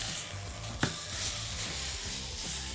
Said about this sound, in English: seal this as you would seal a steak